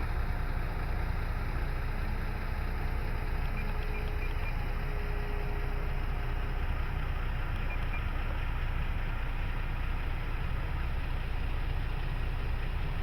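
An Avios Bushmule RC plane's motor runs at about half throttle, producing a steady, unbroken whirring drone with constant loudness and no pauses.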